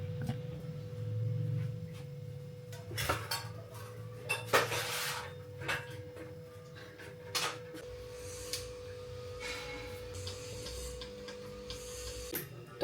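Metal kitchen utensils clink and clatter as they are handled in a home kitchen, scattered irregular knocks and scrapes at close range over a steady low hum, with no talking.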